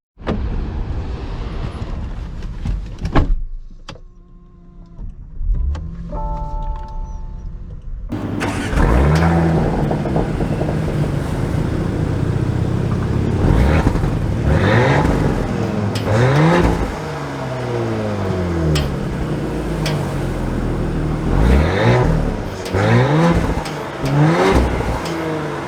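A Porsche Cayenne S starts up after a few clicks and a short crank, then drives off with repeated rising and falling engine revs through the gears, loud and close.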